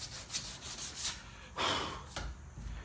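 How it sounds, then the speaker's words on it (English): Sandpaper rubbing on a wooden knife handle, a series of close, quiet rasping strokes in uneven rhythm, with one longer, louder pass near the end. "Yeah, 2 or 3 hours of sanding."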